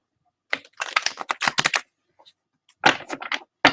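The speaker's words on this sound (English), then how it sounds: "Let me shuffle it up." Crisp, rapid riffling bursts of cards being shuffled, two clusters of flicks separated by a short pause, close and fairly loud with no talking.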